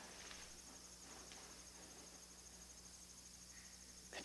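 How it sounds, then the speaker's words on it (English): Crickets chirp steadily in a quiet room, a faint continuous high trill with a low hum underneath and no voices. "The crickets right in the ear"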